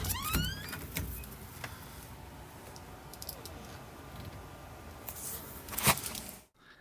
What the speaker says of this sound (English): So that was the cold room door.